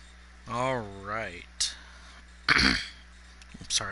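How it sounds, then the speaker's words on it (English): A man clears his throat close to the microphone, a drawn-out voiced rasp followed by a couple of harsh, abrupt throaty bursts. "every time I go to clear my throat, I accidentally make that much noise"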